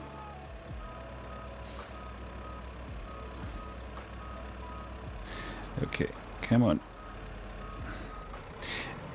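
Truck reversing beeps in the RoadCraft video game, a steady repeating beep over an engine rumble, with a brief spoken line and a few louder clunks partway through.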